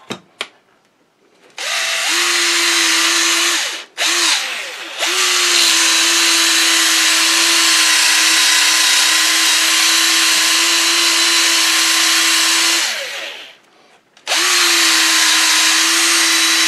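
A power drill used for polishing, whining steadily in long close bursts, stopping briefly between runs and then starting up again.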